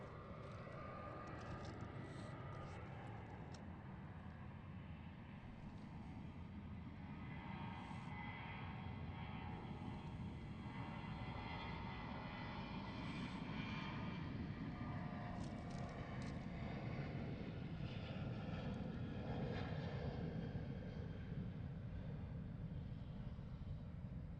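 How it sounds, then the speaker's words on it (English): Jet airliners departing Gatwick Airport, a steady broadband engine roar with low rumble that holds loud throughout and swells slightly toward the end, with no talk. "you're getting some amazing sounds from the aircraft departing"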